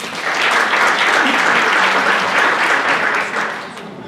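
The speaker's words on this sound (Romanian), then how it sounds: "Așa că vă rog în aplauze" Steady, full applause from a conference audience welcoming a speaker, loud and sustained for several seconds before tapering slightly at the end.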